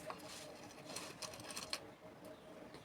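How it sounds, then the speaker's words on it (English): A sewing machine stitches fabric for a bonnet cap, giving a faint, steady mechanical whirr with light rhythmic ticks. "you just take it to the sewing machine. Sew on half inches all the way around"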